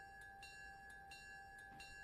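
A locomotive bell rings in the railroad game Railroader during yard switching, with a steady tonal ring and several faint periodic strikes repeating over a quiet background.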